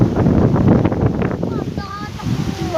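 Strong gusty wind buffets the microphone outdoors in San Pablo City, a loud steady roar with people talking over it throughout.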